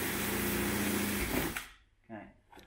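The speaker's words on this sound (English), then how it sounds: "I love drilling holes in the Range Rover." Power drill boring a 10mm hole in the rear tailgate of a Range Rover Sport L494: loud, steady whining grind for about a second and a half, then stopping abruptly, followed by faint handling noises.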